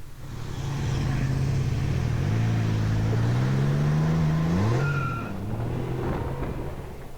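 A Can-Am Ryker three-wheeled motorcycle engine revs up, its pitch climbing steadily over a few seconds before dropping off sharply, then settling to a lower rumble, loud and close.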